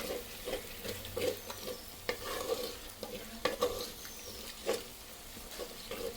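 A spoon stirs curd into a sizzling chicken gravy in a pan, with repeated scraping strokes and soft clinks over a steady frying hiss.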